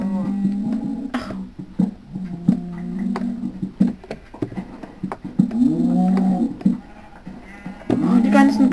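Sheep in the video game Minecraft bleat repeatedly and loudly, several wavering calls spread across the scene, mixed with someone talking over them.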